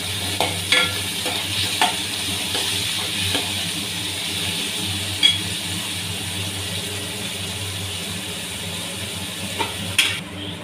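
Tomatoes frying and being stirred in a pan while making oats upma, a steady sizzle with scattered scraping clinks of the spoon against the pan, close and continuous with no talking.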